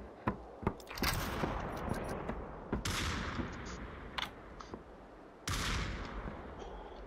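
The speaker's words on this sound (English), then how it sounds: "They're shooting." Gunfire in the VR shooter Population: ONE: sharp single shots and short bursts crackle irregularly, some nearby and loud, others more distant, over a low background hiss.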